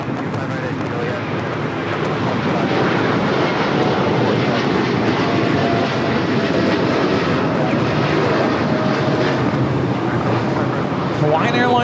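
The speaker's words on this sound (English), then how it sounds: "Hawaiian Airlines Flight 3 taking off to Honolulu" A Hawaiian Airlines jet airliner taking off from LAX bound for Honolulu, a loud continuous engine roar holding steady across the whole stretch, with voices talking beneath it.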